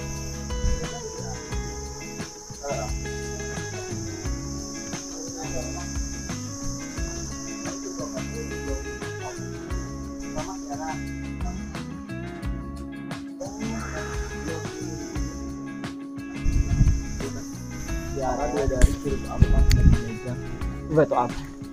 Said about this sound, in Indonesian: Kalian bisa dengar suara-suara jangkrik ya?